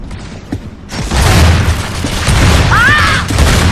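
A shotgun pop shot fired in the video game Gears of War 3, a loud booming blast followed by mechanical clatter and game ambience, with a brief rising electronic whine near the end.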